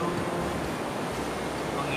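Broadband rush of surf and wind on Pelabuhan Ratu beach in the morning, a steady, fairly loud wash of waves with wind noise across the microphone and no clear breaks.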